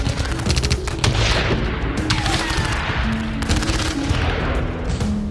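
Dense, continuous gunfire crackles with booming explosions in war-torn Mariupol, rapid bursts and blasts overlapping loudly throughout without pause.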